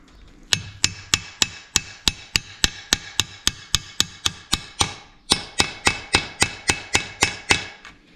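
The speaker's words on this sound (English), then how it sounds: "You want to tap these all the way down until they bottom out" Seals are tapped into a Willys Jeep pickup transmission and transfer case housing with a hammer: a steady run of about two dozen sharp, close metallic knocks at an even pace, with one short pause midway and no talk.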